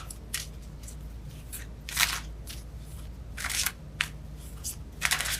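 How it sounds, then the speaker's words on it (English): Tarot cards are shuffled by hand in several short, papery bursts of riffling and sliding, close and crisp, separated by brief pauses over a low steady hum, with no voices. "All right, I keep shuffling."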